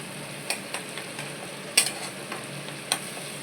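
Food frying in a pan is stirred until dry: a soft steady sizzle broken by repeated light scrapes and clinks of a spoon against the pan, close and fairly quiet, with no talking.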